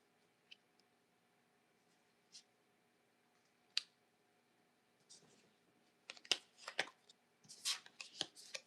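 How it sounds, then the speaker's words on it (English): Quiet room with a few soft isolated taps, then a burst of rapid crisp card riffles and slaps as a tarot deck is shuffled up close. "Let me shuffle to do the third card for you."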